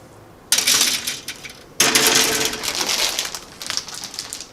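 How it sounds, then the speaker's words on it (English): Plastic packaging from a 1/48 model kit crackles and crumples close up in two bursts, the second longer and rustling on before it tapers off; no talk. "Excuse the crumpling."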